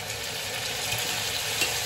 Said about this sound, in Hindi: अब इसमें हम डाल देंगे अपनी ये लाल मिर्च और टमाटर